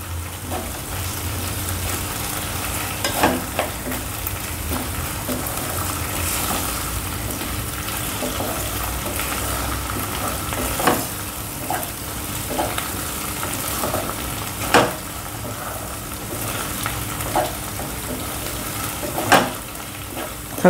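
Ginger, garlic, green chilies, bay leaf and cinnamon sauté in a hot pan, making a loud, continuous sizzle broken now and then by the sharp scrape and clack of stirring.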